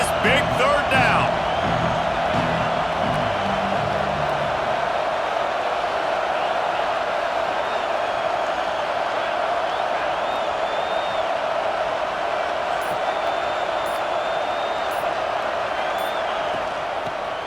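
Stadium crowd roaring on a big third down during a Boise State at Nebraska college football video game, a steady loud wash of crowd noise throughout with an announcer talking over it.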